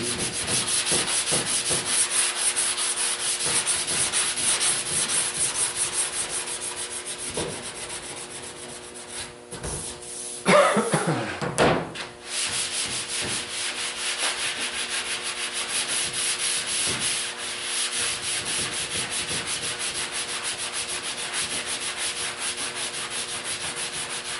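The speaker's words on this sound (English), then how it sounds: "Sanding this, you can see I'm just running" Steady, continuous block sanding of a car panel, a dry abrasive rub that runs on and on, with a brief louder scuffing burst partway through.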